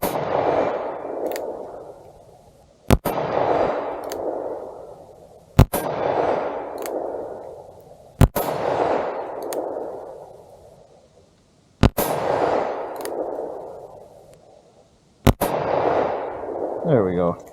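Six loud revolver shots from a Colt King Cobra with a 2-inch barrel, fired single action at a target 40 feet away outdoors, each sharp crack followed by a rolling echo and spaced a few seconds apart.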